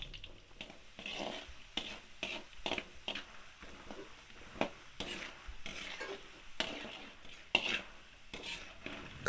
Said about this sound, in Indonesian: Langkah pertama, kita menggoreng kacang tanah.